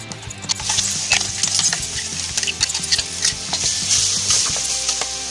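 Spice paste of blended masala with turmeric and coriander powder frying in oil in a pan, a steady close sizzle broken by scraping stirs and clinks of a spoon, with no talk.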